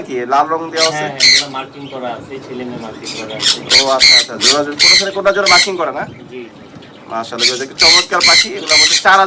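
Pet parrots, including tame conures, sun conures, Alexandrine parakeets and lovebirds, squawk loudly and repeatedly up close, harsh piercing calls in rapid bursts with brief pauses between them.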